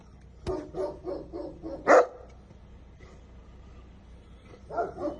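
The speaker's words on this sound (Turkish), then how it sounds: "Köpekler arabanın etrafını bastı." Several dogs bark in short bursts around a car, one sharp loud bark standing out, then a second cluster of barking after a pause, outdoors at moderate distance.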